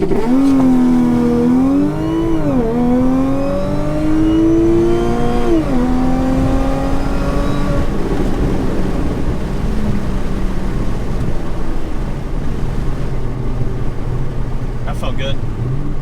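An Audi B8.5 S4 launching from 3,300 RPM, its engine note rising loudly in steady upward sweeps through the gears before settling into a roaring cruise, recorded from inside the car.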